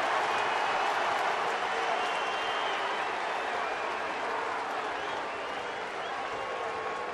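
Baseball stadium crowd at a Dodgers game during a mound visit, a steady roar of cheering and applause that holds for several seconds and eases slightly toward the end.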